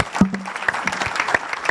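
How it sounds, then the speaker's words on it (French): An audience applauds at the announcement of the 2026 bullfight cartels for the Madeleine festival in Mont-de-Marsan, a short, dense burst of clapping close by. "On applaudit Pascal."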